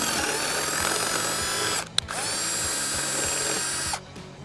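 A power drill whirs steadily at close range, drilling a hole in a Toyota RAV4 roof, with a brief pause near the middle and another cutoff shortly before the end.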